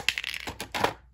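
A small golden toy building piece drops onto a hard surface, giving a couple of short, close clattering taps that die away quickly.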